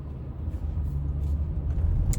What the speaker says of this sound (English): I am driving to work.